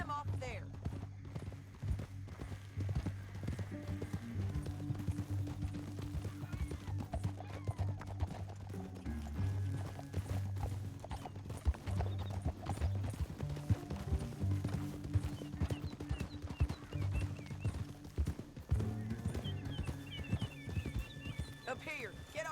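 Horse hooves clip-clop steadily throughout at a brisk pace in Red Dead Redemption 2, with an occasional whinny and a busy background mix.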